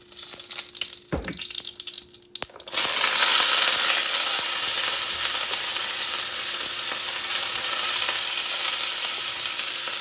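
Cabbage fries in melted coconut oil over high heat, a loud, steady sizzle that bursts in after a few seconds of quieter pan handling and a brief clatter, then holds unbroken to the end.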